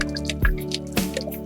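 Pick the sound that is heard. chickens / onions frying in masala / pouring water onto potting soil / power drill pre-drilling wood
pouring water onto potting soil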